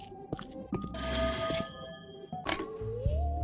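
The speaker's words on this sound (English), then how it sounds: "Pick up the phone, dammit!" A telephone rings in a video game, repeated electronic bell trills coming in short bursts with pauses between them, fairly close and clear with no talk over them.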